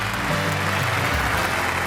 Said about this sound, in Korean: 박수 치면서, 박수 치면서.